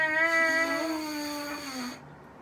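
A single steady buzz on a brass mouthpiece held for about two seconds on one slightly wavering pitch, then cut off; close and fairly quiet, with no talking.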